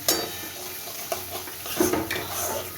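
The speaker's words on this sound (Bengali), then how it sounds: "এবার আমি এর মধ্যে যে দুধটা নিয়েছিলাম সেটা দিয়ে দিলাম।" Milk poured into fried spice paste for plantain kofta curry, a short burst of liquid splashing and sizzling in the pan followed by stirring and faint clinks, close and fairly quiet.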